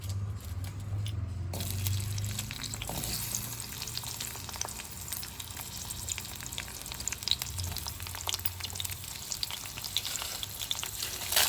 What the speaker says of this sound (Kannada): ಈಗ ಎಣ್ಣೆ ಕಾದಿದೆ, ಈರುಳ್ಳಿ ಹಾಕ್ಕೊಳ್ತಾ ಇದ್ದೀನಿ